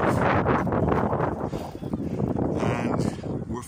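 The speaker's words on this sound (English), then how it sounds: "It's a bit windy." Wind buffets the microphone at South Sea Beach, loud gusty rumbles that swell and ease over a few seconds.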